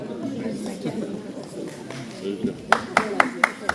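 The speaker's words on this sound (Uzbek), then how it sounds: "Şapalaklar, karsaklar, alkışlar." Several sharp hand claps ring out at a jubilee celebration in Tashkent, a short run of about six claps near the end, following a stretch of talking.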